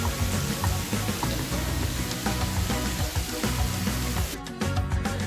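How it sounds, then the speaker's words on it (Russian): An indoor waterfall in the lobby of the Mövenpick Resort & Spa on the Dead Sea in Jordan gives off a constant, dense splashing rush, steady throughout with slight shifts near the end. "В холле отеля находится вот такой водопад."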